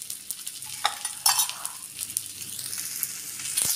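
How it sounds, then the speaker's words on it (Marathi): Pomfret fish frying in a pan of oil, a steady close sizzle with a few louder spitting bursts and crackles throughout, no voices. "5 मिनटं आपला पापलेट तेलामध्ये फ्राय करायचा"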